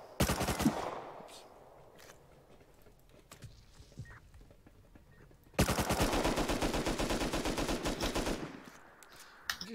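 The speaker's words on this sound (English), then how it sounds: "I just shot a ton." Gunfire in the Rust zombie survival game: a burst of rapid shots at the start, scattered single shots, then a long sustained automatic volley lasting several seconds before it stops abruptly.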